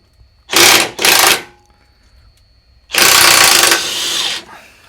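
Pneumatic impact gun removing 16mm bolts during a clutch replacement on a 2006 BMW Mini R56 diesel: two short loud rattling bursts, then a longer hammering run that eases off, all close up.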